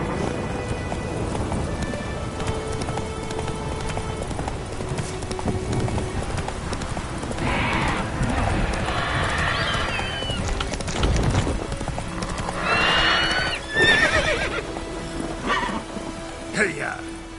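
A horse galloping in The Witcher 3, heard as a fast clip-clop of hooves running through rain, with spattering water and rustling, jingling tack. A voice speaks intermittently over the hoofbeats.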